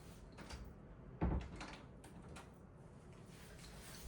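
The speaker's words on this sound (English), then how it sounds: "Let me close my door real quick." An indoor room door swings shut with a single brief, moderately loud thud and click, followed by quiet room tone.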